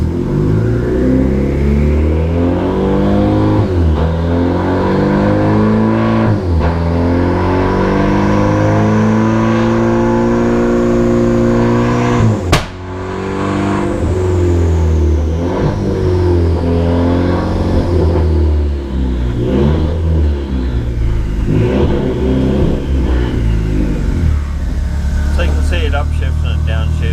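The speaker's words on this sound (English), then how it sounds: "we might just run through a few gears, just so you can see it shifts gears and everything else" A Renault Clio 4 RS engine with a standalone Motec ECU revs hard on a dyno and climbs through the gears, its steady drone rising in pitch with brief dips at each shift and a sharp break midway, loud and continuous.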